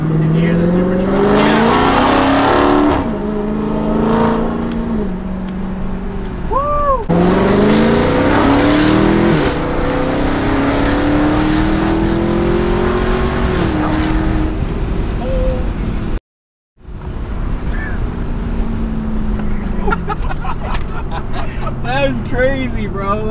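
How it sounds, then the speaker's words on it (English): A supercharged car engine, a Hellcat, revs hard and roars through rising and falling gear pulls with audible supercharger whine, loud and close, with a brief cut to silence midway. "You can hear the supercharger."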